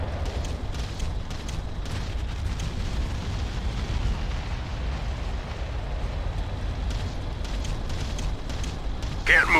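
Artillery bombardment in the strategy game Ground Control, a dense continuous rumble of distant explosions and booms rolling throughout, with a brief sharper burst near the end.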